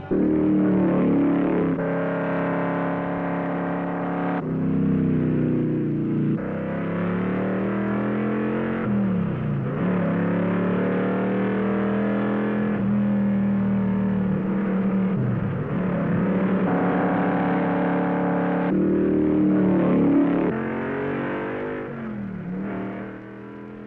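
NASCAR stock cars roar past at speed during the 1968 Daytona 500, their engines rising and falling as they pass in waves over a continuous loud, muffled old-film soundtrack.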